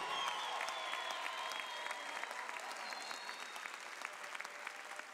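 Audience applause for a big band's bandleader at a tropical music concert, steady sustained clapping from a crowd throughout, moderately loud and filling the room with no talk over it.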